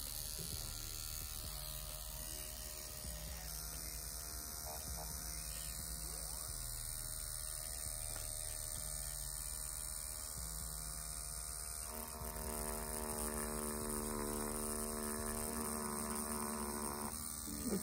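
A tattoo machine fitted with a Kingpin Bugpin 9 mag shader needle, used on leather, buzzes with a steady electric hum and rapid mechanical ratcheting, close and continuous, with the pitch shifting partway through.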